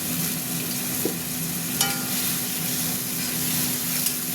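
Spice paste of ginger, garlic and chilli with ground turmeric, cumin and coriander and tomato frying in a pan for egg omelette curry, a steady close sizzle with a few faint clinks, no talking.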